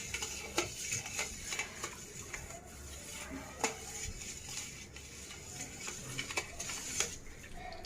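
A spoon stirring a mixture in a vessel until it dissolves, a steady run of close, quiet clinks and scrapes repeating at an even rhythm.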